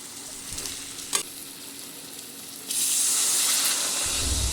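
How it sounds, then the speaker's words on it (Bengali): Egg curry is stirred in a pan, with scraping strokes at first, then a loud, steady sizzle as water goes into the hot spiced oil, heard up close without talk. "আবারও আমি খুব ভালো করে নেড়ে দেব।"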